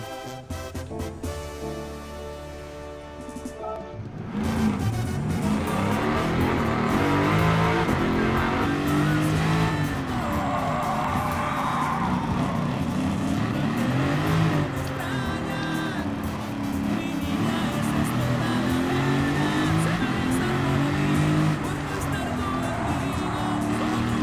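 Jaguar NASCAR race car engine revving and accelerating, loud and continuous with rising and falling pitch sweeps as gears shift, close up and filling the whole stretch after a brief quieter start.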